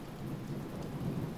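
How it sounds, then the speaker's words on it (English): Steady rain with a low rumbling undertone in the puzzle video game The Talos Principle, a continuous quiet wash of falling water with no voices. "The elusive raindrop that splashes in midair right in front of you."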